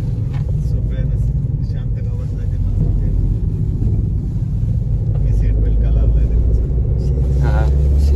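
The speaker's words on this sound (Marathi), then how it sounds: "अशा सुंदरशा अशा वळणा वळणाच्या रस्त्याने गाडी चालवताना किती मस्त वाटतं" A car travels along winding coastal Konkan roads, its low engine and road rumble steady and close throughout, with voices faintly present.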